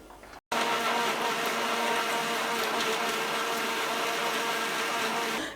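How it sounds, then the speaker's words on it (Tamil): A mixer grinder blends chunks of ash gourd with palm sugar. The motor kicks in after a brief pause and runs as a loud, steady whirring roar until it winds down at the end. "இதை நம்ம மிக்ஸி ஜார்ல நல்லா அடிச்சுக்கலாம்."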